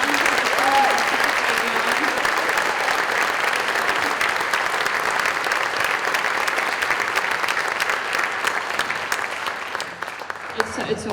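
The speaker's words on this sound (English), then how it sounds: "I just want to give one more round of applause for the kids for being here" Sustained applause from an audience at an arts festival performance, honoring the kids who performed, steady and full for the whole stretch before it tapers slightly near the end.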